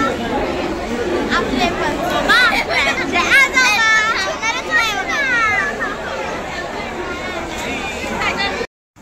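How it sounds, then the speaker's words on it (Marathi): Dense crowd chatter on a busy platform at Panvel railway station in Mumbai at night, with overlapping voices, children's shouts and a continuous murmur close around. "प्रचंड गर्दी."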